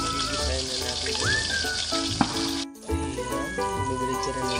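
Fish frying in hot oil in a pan, a steady dense sizzle with crackles running throughout, close and fairly loud, briefly dipping for a moment before resuming.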